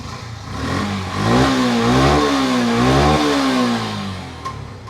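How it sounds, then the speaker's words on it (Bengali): A Yamaha FZ version 1 motorcycle engine fires up and revs, rising and falling through several throttle blips at close range before settling back toward idle. "এফজেড ভার্সন 1 এটা স্টার্ট দেন ভাই।"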